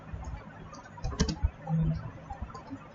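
Light typing on a computer keyboard while writing a C++ guessing-game program, a sparse run of faint clicks with a slightly firmer cluster in the middle, fairly quiet and close.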